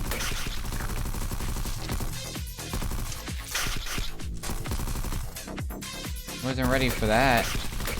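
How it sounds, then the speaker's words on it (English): Enemies fire on the player in a frantic sci-fi shooter game, dense overlapping gunfire and blasts crackling continuously under excited talking, ending in a louder warbling electronic burst. "They started shooting at us."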